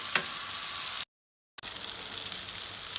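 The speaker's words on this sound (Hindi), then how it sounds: "अब ये हल्की आंच पर दूसरी साइड से भी फ्राई करेंगे।" Four chicken seekh kebabs fry in a pan on low heat, giving a close, steady crackling sizzle that cuts out abruptly for about half a second and then resumes just as before.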